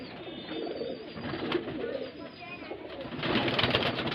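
Highflyer pigeons at a loft in Bareilly, Uttar Pradesh, coo softly in low, repeated calls that swell louder near the end, with faint rustling around them and no speech.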